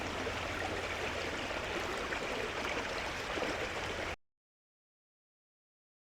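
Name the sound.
river water flowing in boggy New Forest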